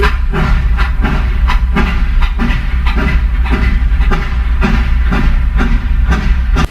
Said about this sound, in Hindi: ये क्या ट्रेन तो जा रही है।